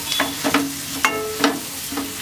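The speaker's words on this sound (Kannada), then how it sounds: "ಅಲ್ಲಿವರೆಗೂ ಇದನ್ನು ಹುರ್ಕೊಳ್ಳೋಣ." Onions and tomatoes fry in oil for egg fried rice, with soft sizzling under repeated scraping stirs of a spoon against the pan, close and moderately loud; no voices.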